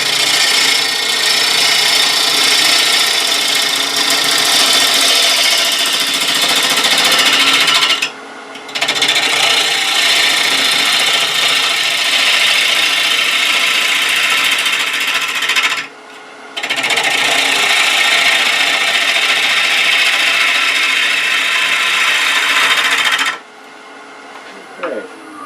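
A wood lathe rough-cuts a potpourri bowl blank as a hand-held tool rides the tool rest, making a loud, continuous rasping scrape in three long passes separated by brief pauses.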